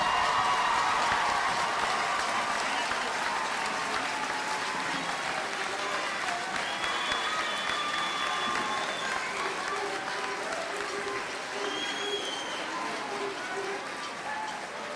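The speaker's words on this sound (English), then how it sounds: "offer a round of applause and appreciation for their support" An audience at a high school graduation ceremony applauds in a dense, sustained wave of clapping that slowly fades, with some crowd voices mixed in.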